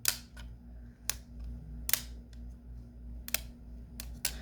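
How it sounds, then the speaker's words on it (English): Sharp, crisp plastic clicks from a Game Boy Advance SP hinge snapping into place, about six separate snaps at irregular intervals over a low steady hum, close and distinct. "I still get that nice solid click."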